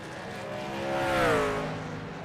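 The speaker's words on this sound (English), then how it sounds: "Get some burnouts in or some donuts." A race car in a racing video game revs up during burnouts and donuts, its engine tone climbing and swelling to a peak before easing back, alone and fairly close.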